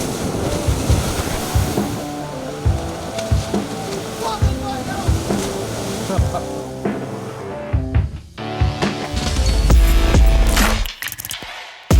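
Ocean surf washes and rumbles continuously, with wind buffeting the microphone and a heavier wave surge near the end, loud and close, with no talking.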